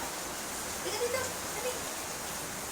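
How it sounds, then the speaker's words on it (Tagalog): Steady, dense hiss of heavy rain pouring down, with a voice speaking briefly underneath in Filipino. "Ang lakas ng ulan."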